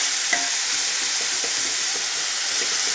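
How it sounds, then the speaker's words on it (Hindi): Grated radish with salt sautés in a pan for a chutney, a dense, even hiss of sizzling and steam that runs steadily throughout, close and fairly loud, with faint stirring taps underneath and no voices. "आप इसमें कद्दूकस किए हुए सारे मूली को डाल दें।"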